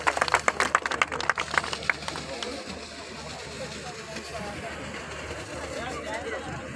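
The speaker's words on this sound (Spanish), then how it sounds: "fuerte aplauso, por favor, para los ingenieros" An audience claps for a group of engineers, a brief burst of applause that fades after about two seconds into outdoor ambience and murmuring voices.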